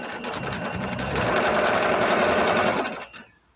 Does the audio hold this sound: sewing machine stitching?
yes